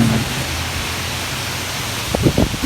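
Rain on a rainy afternoon falls as a dense, steady hiss close to the microphone, with a few faint knocks or voice fragments rising briefly near the end.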